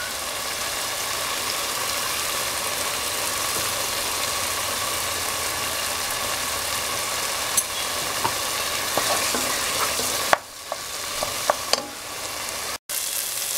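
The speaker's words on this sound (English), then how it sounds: "After frying the tomatoes nicely for 3 to 5 minutes" Steady, dense sizzling of tomatoes frying in a pan, with a few soft clinks and scrapes of stirring near the end.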